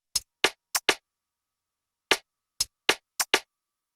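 Layered percussion from an Afro dancehall beat: short, sharp hits arrive in bouncy clusters of four, then a pause, then five more, crisp and close with no other sound.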